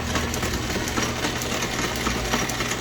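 An old South Bend lathe set up for milling with a high-speed steel end mill held on a homemade quick-change tool post, giving a steady close-up mechanical hum and chatter that runs without pause, with no voices.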